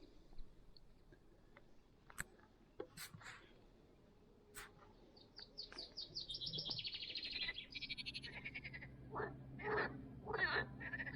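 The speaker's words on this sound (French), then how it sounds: "Des rainettes." Tree frogs call in a quiet springtime outdoor setting, with sparse clicks at first, then a rising run of rapid, rhythmic croaking pulses joined by short chirps, faint and fairly distant, with no talk.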